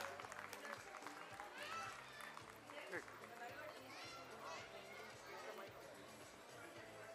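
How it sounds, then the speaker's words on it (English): Audience applause at a school's annual cultural night and prize distribution ceremony: steady, dense clapping from a large crowd with a murmur of chatter mixed in, sustained throughout at a moderate distance. "Can we have a huge round of applause for Kritikesh and Tejas?"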